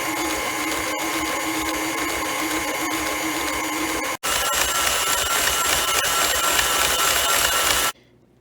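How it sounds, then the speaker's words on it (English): Stand mixer fitted with a whisk beating cultured cream into butter, a loud, steady motor whir with rattling bowl noise, one sharp momentary break midway, then stopping abruptly near the end. "put this bowl on our stand mixer with a whisk. It's going to need to whisk for about 5 to 10 minutes"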